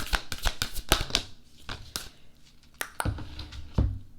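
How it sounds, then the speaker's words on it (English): Oracle and astrology cards are shuffled by hand, a quick run of crisp riffling snaps early on, then slower, scattered card slaps and taps, close and fairly loud with no voice. "let's go ahead and shuffle some oracle cards, some astrology cards"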